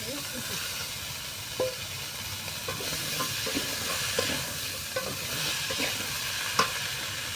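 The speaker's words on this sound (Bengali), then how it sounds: "এই যে আমার শিমগুলা দিয়ে একটু হালকা বাজিয়ে নিই" Beans and potatoes from the field are lightly fried in a pan, giving a steady, close sizzle with scattered clicks and scrapes from stirring throughout.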